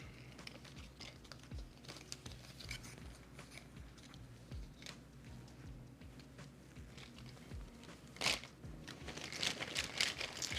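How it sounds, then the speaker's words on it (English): Railroad Tiles board game pieces being shuffled on a table, a steady run of dry clacking and rustling, fairly close and alone, growing a bit busier near the end. "Shuffle, shuffle, shuffle."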